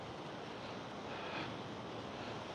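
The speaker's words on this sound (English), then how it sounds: "So here's some nice waves coming in." Ocean waves roll in at Playa Paraíso beach as a steady, broad wash of surf, with wind buffeting the microphone throughout and a slight swell in loudness partway through.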